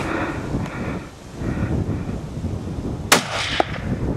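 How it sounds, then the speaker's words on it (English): A single sharp rifle shot at a moose during an Alaska hunt, cracking out over steady wind buffeting the microphone, followed moments later by a smaller click. "Okay, hit him again, shoot him right up the rump"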